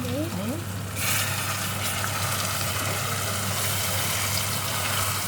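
Tomatoes frying in a pan over an outdoor fire, a steady dense sizzle running throughout, with a brief voice at the start and low background hum underneath.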